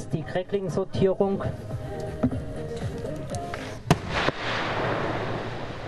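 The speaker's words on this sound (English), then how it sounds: "Crackling fireworks have tiny stars that explode with a white color and hissing, snapping sounds." Rapid crackling New Year's Eve fireworks: a burst of sharp snapping pops, then scattered louder bangs and a lingering hiss, with a voice talking over it.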